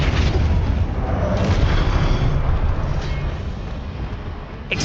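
A Flipendo spell in Hogwarts Legacy erupts as a loud, continuous booming rush of low rumbling energy, sustained for several seconds before easing off.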